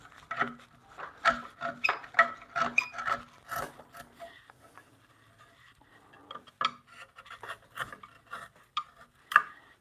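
Steel chisel cutting a mortise into a wooden bunk bed rail, giving repeated sharp scraping and tapping strokes in irregular bursts, close and moderately loud, with a quieter pause in the middle before the strokes resume.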